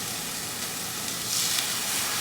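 Pork chop searing in a hot, smoking pan, a steady broadband sizzle that swells louder toward the end, close and continuous with no voices.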